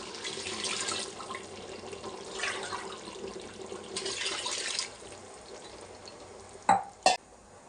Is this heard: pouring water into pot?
yes